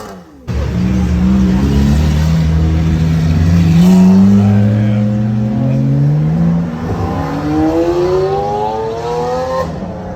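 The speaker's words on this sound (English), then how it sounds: "Hey, can you give me a rev?" Lamborghini Aventador SV engine revving up hard on a street in Naples, Florida, its pitch climbing through a long, loud rise and a second rev, close by with no talk over it.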